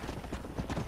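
Hoofbeats of a horse galloping in the video game Red Dead Redemption, a rapid rhythmic clip-clop pounding at moderate level throughout the short moment with no talk.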